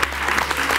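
A studio audience at a Georgian TV talk show gives a short burst of dense, close clapping that lasts under a second.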